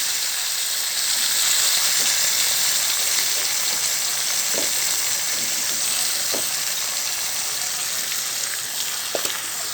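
Chopped papaya hitting a pan of browned onion, frying with a steady, loud, close sizzle and hiss that runs the whole time, with a few faint clicks of stirring.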